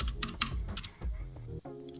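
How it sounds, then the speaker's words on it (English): Quick keystrokes clatter on a computer keyboard as a card name is entered into a listing tool, close and fairly busy, over faint background music. "then you can just start typing the name"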